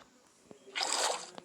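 Minecraft bucket scooping water from a source block: a brief, soft watery slosh swells and fades midway, framed by faint clicks in an otherwise quiet game scene.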